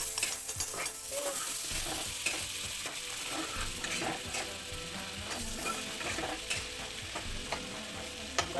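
Butter sizzles in a hot kadai on a gas stove, a continuous crackling hiss broken by scraping, clattering stirs of a utensil, with no voices.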